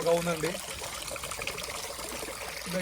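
Water trickles and splashes steadily from a tap at a roadside stop on the Kathmandu to Pokhara road, close and continuous, partly mixed with a voice speaking briefly at the start and end.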